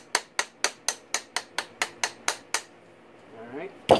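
Eleven evenly spaced light metallic taps seat an engine part on a 2004-2013 Yamaha YFZ450 motor rebuild, close and crisp, followed by a brief scrape and a final knock.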